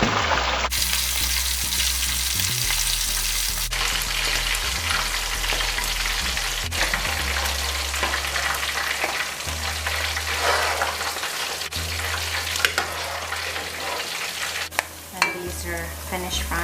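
Fish, likely sardines, sizzle steadily in a pan of hot oil, a continuous loud crackling hiss with occasional louder pops and stirring clinks.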